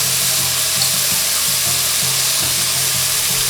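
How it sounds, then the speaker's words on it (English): Beef broth pours into a pan of sizzling beef, making a steady, close, watery rush over the frying hiss. "we added in a little bit of beef broth for that extra flavor"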